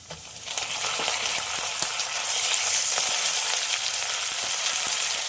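Curry leaves, green chillies and cashew pieces frying in a pan for upma premix make a bright, continuous sizzle with scattered sharp crackles, close and fairly loud, with no voices.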